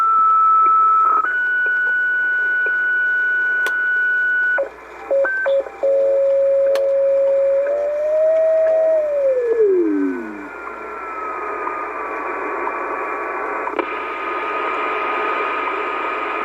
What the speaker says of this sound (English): that's the side tone